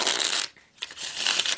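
Tarot cards are shuffled by hand in two crisp bursts of riffling and sliding, split by a brief pause, heard close and alone.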